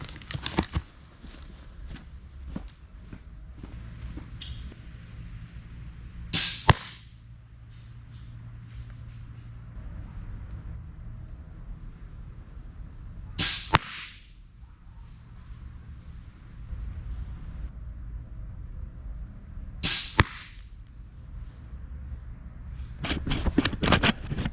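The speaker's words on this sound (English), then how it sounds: "I'm going to fire 3 bolts again at this angle" An EK Archery Jag 1 Deluxe crossbow fires three bolts, each shot a sharp snap and whoosh at evenly spaced intervals, with quiet handling rustles and shuffling noise between the shots.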